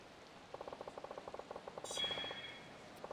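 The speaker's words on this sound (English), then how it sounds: "Now, of course, it starts to rain" Rain in the video game Yakuza 4, a faint steady hiss of falling water under a quick repeating pattern of ticking game sounds, with a brief bright chime midway.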